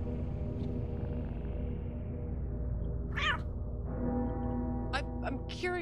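A cat meows several times in the video game Lethal Company: short, clear mews near the end, over a low droning hum, with a voice talking earlier.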